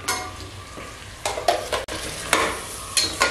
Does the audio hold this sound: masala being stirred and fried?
yes